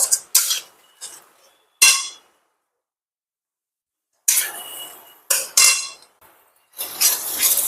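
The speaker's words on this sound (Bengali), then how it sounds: "এবার আমি কাজু পেস্টটা, কাজু বাদামের যে পেস্টটা করেছি সেটা দিয়ে দিলাম। হালকা একটু কষিয়ে নেব।" Cashew paste being stirred and fried in a metal pan for paneer butter masala, with sharp, bright clanks and scrapes of a utensil against the pan in irregular bursts separated by silent pauses.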